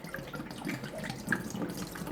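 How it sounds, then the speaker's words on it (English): Water pours into a bucket in a steady, close splashing stream that runs without a break, with a few faint drips and no voices. "First, I put in water."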